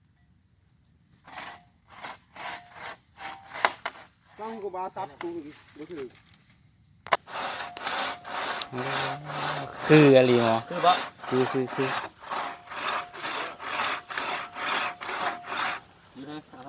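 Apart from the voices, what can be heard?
saw cutting wood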